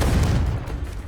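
A Confringo fire blast spell explodes in Hogwarts Legacy on PS5, a loud, dense burst of low rumbling impact that sustains for about a second with no talk over it.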